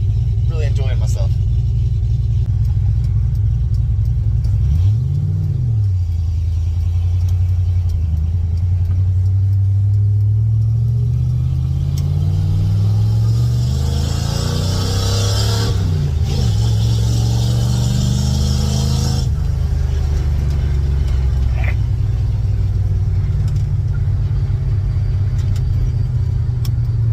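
Car with a newly installed aluminum radiator driving on the road: a continuous low engine drone with gear changes and rising and falling revs, heard from inside the cabin, with a louder stretch of wind or road noise partway through.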